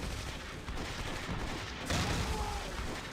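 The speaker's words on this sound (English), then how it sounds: "Heavy machine gun team is suppressing them." Dense battlefield gunfire in the WWII strategy game Close Combat 3, with a heavy machine gun team firing steady bursts amid other weapons, loud and continuous across the whole stretch, with a heavier volley toward the end.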